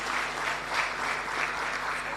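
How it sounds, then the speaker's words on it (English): A crowd at a municipal media launch in Sol Plaatje gives a sustained round of applause, a dense, even wash of clapping held steady throughout. "I would ask you to give them a nice round of applause"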